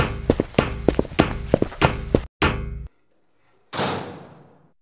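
Several sharp knocks strike a door in a quick irregular series, loud and close, followed by a couple of heavier thuds separated by silence.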